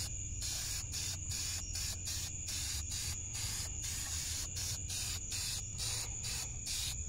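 Spray can painting a Honda Accord valve cover black, a series of short hissing bursts in quick regular succession with brief gaps between, close and steady over a low background rumble.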